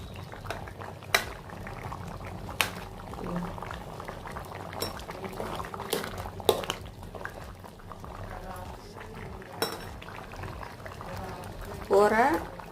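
Pendulum tomato curry, a thick spiced gravy, bubbles and pops in a pot with irregular soft plops and spatters under a woman's speech, ending in a louder burst of bubbling.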